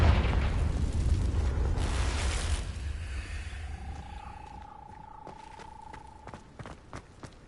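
A Confringo fire spell explodes in the video game Hogwarts Legacy, a loud broad burst that fades over several seconds into a rumbling tail, followed by a sustained tone and a few faint clicks.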